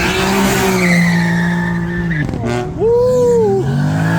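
A Corvette at a Supercar Saturday car meet revs hard and squeals its tires, a loud droning engine note with a brief break before a rising, wailing screech, heard up close.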